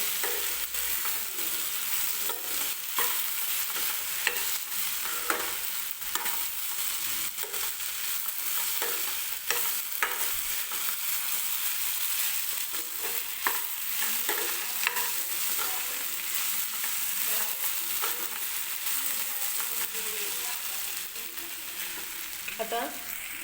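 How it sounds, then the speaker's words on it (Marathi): Capsicum and red chili powder sauté in a pan with a steady, loud sizzle, while a utensil stirs and scrapes irregularly, close up with no talk. "व्यवस्थित परत मिरची परतून घ्यायची आहे"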